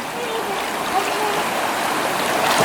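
Steady rush of a flowing stream on Siargao Island as someone crosses it, a constant broad wash of water with no clear voices over it.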